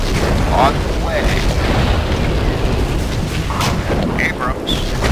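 An Abrams tank's main gun firing in C&C Generals Zero Hour, heard as dense, continuous booming battle noise, loud and near, with no clear pause between blasts.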